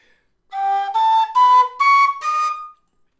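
A low D tin whistle plays the top few notes of its second octave: five clear, pure tones stepping upward one after another, each held briefly and close up, with silence around them.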